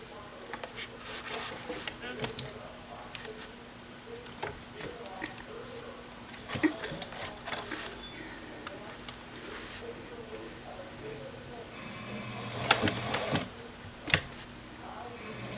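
A sewing machine stitches a leather wristlet clutch with a low, buzzing motor hum in bursts, alongside soft clicks and handling noises and a voice at times.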